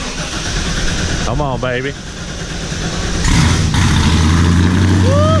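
LS engine in a truck cranks, catches and settles into a loud, steady idle with a low throbbing drone; a person speaks briefly over the starter whir.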